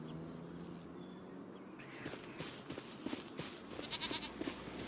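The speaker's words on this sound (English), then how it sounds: "those goats are not ours" Goats bleat in a Farming Simulator 25 farm scene, several short repeated calls rising over a quiet game ambience with faint bird-like chirps, soft and somewhat distant.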